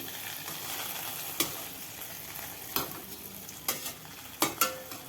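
Cashews fry in oil for bread halwa with a faint steady sizzle, broken by a few sharp clinks of a spoon against the pan, close by and quiet.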